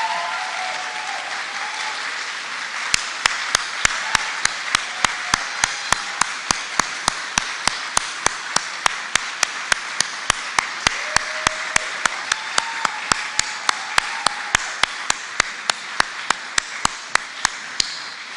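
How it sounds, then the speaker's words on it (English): Large audience applauding at a governor's address as COVID-19 mandates end, a dense, sustained roar of clapping with one sharp clap ringing out steadily above the crowd throughout. "One final round of applause."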